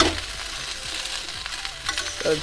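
Vegetable fried rice sizzles and crackles steadily in a hot pan while a spatula stirs and scrapes through it in repeated short strokes, close and fairly loud, with no voices.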